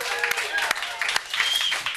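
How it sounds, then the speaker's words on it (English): Studio audience applause on a cooking show set, a bright patter of clapping with a few whoops, partly under a host's talk. "They are really clapping."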